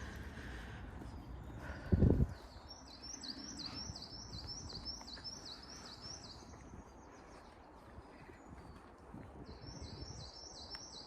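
Birds chirping and singing in repeated high trills in a 19th-century park in South Yorkshire, England, over a broad outdoor hiss, with a brief thump near the start; moderately distant.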